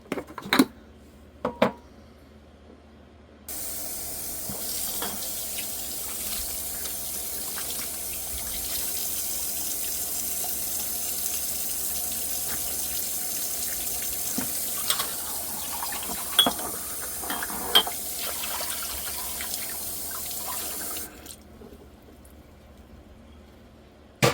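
Kitchen tap water runs in a steady gush for about eighteen seconds while canning jars are washed for making jelly, with a few faint clinks of glass, bracketed by brief quieter handling at the start and end.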